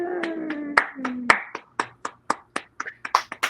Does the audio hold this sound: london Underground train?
no